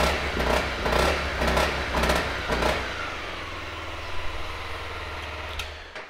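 A 2015 Honda CRF250L motorcycle cranks on its electric starter after a few seconds of handling noises, then catches and settles into a steady, close, low idle that continues to the end.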